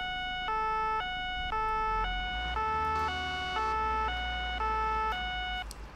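A two-tone police siren from the video game ARMA 3, its blue roof lightbar flashing, alternates steadily between high and low pitches, loud and continuous throughout over a low engine rumble.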